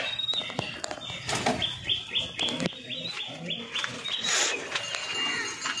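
Pigeons, a mother and her young, call from close by with soft coos, chirps and fluttering, mixed with other bird calls and a person's low voice in the background.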